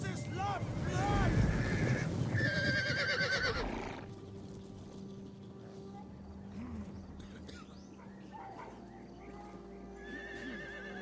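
Horses in the Total War Attila battle game whinny loudly and shrilly over galloping hooves during the first few seconds, then quieter clip-clop and scattered distant neighs continue under battle ambience.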